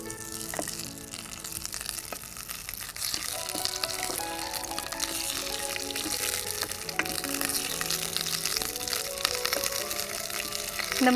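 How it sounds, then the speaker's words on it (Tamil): Cabbage sautéing in a pan gives a steady, continuous frying sizzle throughout, close and fairly quiet, with small crackles and a faint watery hiss. "சரி, இப்போ நம்ம இந்த முட்டைக்கோஸை லேசாக வதக்கிக்க போகிறோம்."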